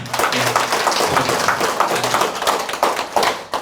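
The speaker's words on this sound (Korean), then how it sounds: "여러분들 위해서 박수 한번 하세요" A small group of students at the end of a speech class claps steadily for a few seconds, the claps close and uneven, with no talking.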